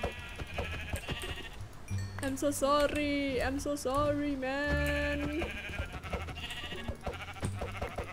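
Sheep in Minecraft 1.12 give several wavering, drawn-out bleats close by, mixed in with a player's excited talk and small in-game clicks.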